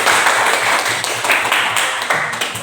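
A classroom of students applauds a student group after its presentation, a close wash of dense clapping that continues for several seconds with some voices mixed in.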